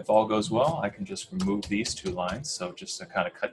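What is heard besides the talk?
No everyday noises stand out.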